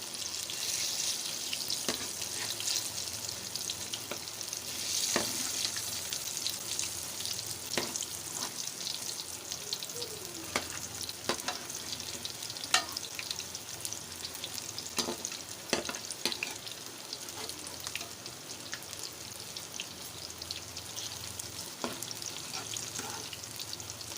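Potato and cabbage pakoras sizzle and crackle steadily in hot oil in a pan, a close, continuous frying hiss with occasional pops and stirring clinks, no voices.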